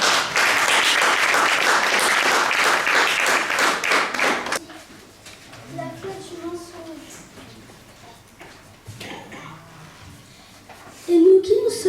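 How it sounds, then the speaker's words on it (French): A church congregation gives lively rhythmic clapping and cheering to welcome the children, loud for several seconds before cutting off. Quieter talking and children's voices follow. "Et nous allons les recevoir avec acclamation."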